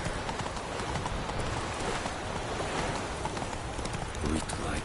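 Geralt's horse Roach gallops in The Witcher 3, producing a steady, fast drum of hoofbeats under ambient noise, with voices faintly present.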